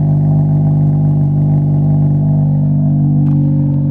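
A car engine idling loudly and close, a steady low rumble with a faint mechanical clatter, no talking.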